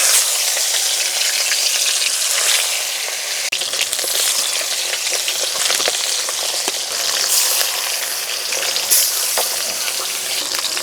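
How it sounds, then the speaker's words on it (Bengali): Koi fish coated in salt and turmeric fries in moderately hot oil, giving a loud, continuous close-up sizzle and crackle throughout. "হালকা গরমে মাছ ছাড়তে হবে।"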